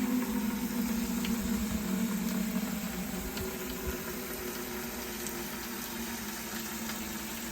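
Dark water flows steadily from a bioretention filter layer into a bucket, a continuous splashing trickle over a low, constant hum.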